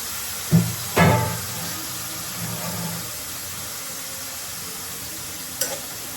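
Fish fry in hot oil with a soft continuous sizzle, broken by a few close clanks and scrapes of a utensil near the start and once near the end.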